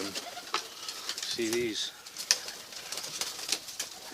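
Tippler pigeons coo softly in a loft, with a brief low coo standing out among flapping, faint mechanical rattles and background chirps, while someone speaks briefly over it.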